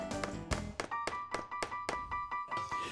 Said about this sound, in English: insert the dowel into the hole, and tap it to the bottom.